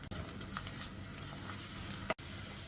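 Bay leaves and fresh ginger garlic paste sizzling in oil in a pan for a spicy Andhra chicken curry, a steady close frying hiss with a brief break near the end.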